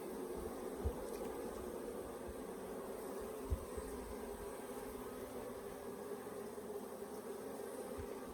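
Africanized hybrid honey bees swarming around an open hive during an inspection in southern Arizona, a dense continuous buzzing drone close by, steady and unbroken with a few soft thumps underneath.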